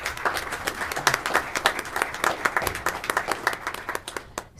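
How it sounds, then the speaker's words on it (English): Audience applause at a county freeholder meeting in Union County, steady sustained clapping from a crowd in a meeting room, fading out at the end. "Let's give them another round of applause."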